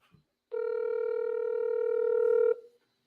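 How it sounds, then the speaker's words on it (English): A single steady telephone tone sounds during a live call, holding for about two seconds at a loud, even level before it cuts off, with brief faint noises just before it. "Y'all can hear the phone?"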